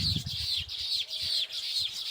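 House sparrows chirp in a rhythmic run of bright, repeated calls close by, several birds overlapping with soft rustling underneath.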